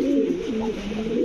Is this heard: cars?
no